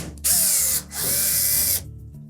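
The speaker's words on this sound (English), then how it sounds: "you'll need to remove 2 screws located on the back edge of that top panel" A power screwdriver whirs in two close bursts, each under a second with a short pause between, as it backs out the Phillips head screws on the rear edge of a Samsung dryer's top panel.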